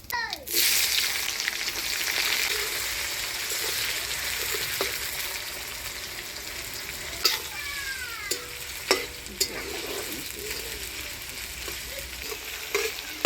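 Chopped onion hits hot oil tempered with dried red chillies, bay leaves, whole garam masala and cumin, bursting into a loud steady sizzle, with sharp spatula scrapes and clinks through the rest, for a village-style duck curry.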